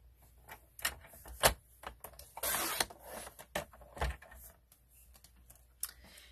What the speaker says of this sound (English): I did need my trimmer